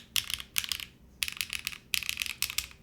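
Bursts of clacky keystrokes on a custom Space82 Bladerunner mechanical keyboard, several quick clusters separated by short pauses, close and crisp with no talking.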